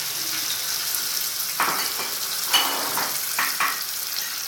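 Small boneless mutton pieces frying in a pot for korma biryani, a steady close sizzle with a few scraping stir strokes of a utensil against the pot.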